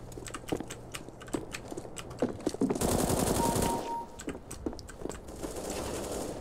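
FAMAS rifle fire in the game CS:GO, rapid bursts of sharp, close gunshots that build into a dense, sustained volley, with other game sounds around it.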